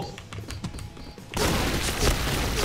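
Gunfire in the shooter game Point Blank, with a quieter stretch of thuds and shots that suddenly gives way to a loud, dense burst of rapid firing and impacts, close and continuous.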